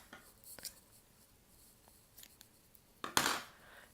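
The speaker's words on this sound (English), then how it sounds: "we're going to snip." Scissors snip the leftover tail of knitting yarn, a few faint light clicks followed by one louder, close crisp cut near the end.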